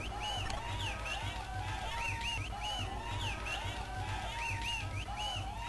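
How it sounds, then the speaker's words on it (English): A synthesized crowd cheers and roars steadily in the Neo Geo fighting game Fatal Fury, with a constant roar and rising and falling tonal whoops looping throughout. "Yes, you can stop cheering now."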